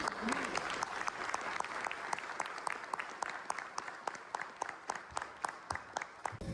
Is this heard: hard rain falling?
no